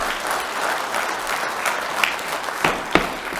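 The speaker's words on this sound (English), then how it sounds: "Please hold the applause." An audience at a Kingman Planning & Zoning Commission public hearing applauds after a resident's comment; steady, dense clapping fills the room throughout, with a few sharper, louder claps standing out near the end.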